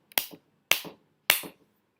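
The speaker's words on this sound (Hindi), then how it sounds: "लेफ्ट हैंड में 3 बार ताली बजाएंगे ऐसे" Three sharp, separate claps, spaced about half a second apart, are made as part of a Kali tantra ritual. Each is close and crisp with a quick tail, and there is silence between them.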